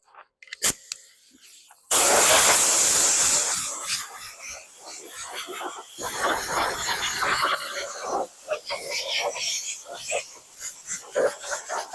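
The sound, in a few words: air blower blowing off truck hood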